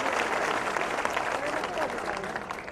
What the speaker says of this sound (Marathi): आपण जोरदार टाळ्या वाजून त्यांचं स्वागत करावं.